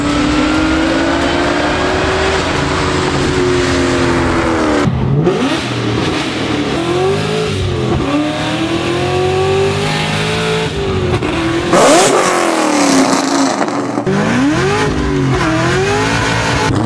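A 2003-2004 Mustang SVT Cobra engine revs hard through a loud, raspy Borla ATAK exhaust, climbing and dropping in pitch repeatedly with aggressive bursts between shifts.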